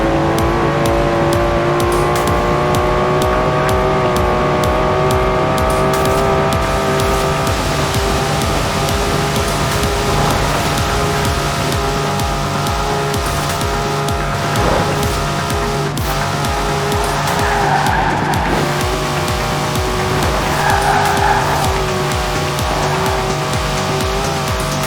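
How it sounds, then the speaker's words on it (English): A Datsun car in Forza Horizon 4 runs with a loud, sustained engine drone that revs and shifts pitch. Tires squeal in places over nearly half a minute of continuous driving. "Listen to that! Never heard a Datsun sound like that"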